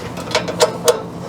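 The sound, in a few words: socket ratchet on a water heater thermostat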